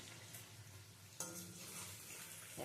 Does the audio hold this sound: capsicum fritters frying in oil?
yes